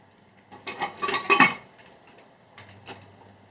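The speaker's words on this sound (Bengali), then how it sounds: "এই কুমড়োগুলো সব সেদ্ধ করতে বসিয়ে দিলাম।" Metal pot clanks and clinks as it is set down on a stove with pumpkins inside for boiling, a short burst of several close knocks followed by quieter scattered taps in a home kitchen.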